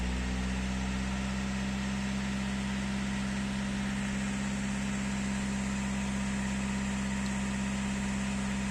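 A car engine held steady at about 2000 rpm while its diesel particulate filter is being cleaned without removal, giving a constant, even drone that runs unbroken from start to end with no voices.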